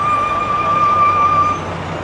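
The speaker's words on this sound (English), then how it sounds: "That was an interesting sound from that bus." A city bus on a busy Manhattan street gives off a steady, close engine rumble with a sustained high whine over it. The whine cuts off about a second and a half in, and the rumble then drops a little.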